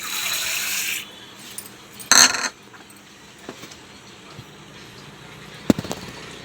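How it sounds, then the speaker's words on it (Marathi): Tap water gushes for about a second over toor dal being washed, then a brief splash follows, with a few faint clinks in a quiet room. "आता आपण तूर डाळ धुवून घेऊ"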